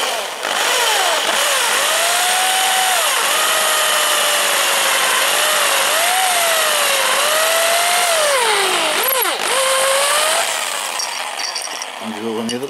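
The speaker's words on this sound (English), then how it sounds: "So just drill a hole here." A power drill whines steadily for about ten seconds, its pitch sagging and rising as it bites into material, then spins down.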